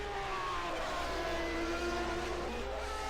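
Footwork Porsche Formula 1 car at the 1991 United States Grand Prix, a high-pitched engine wail shifting in pitch as it revs on and off, loud and continuous with no talk.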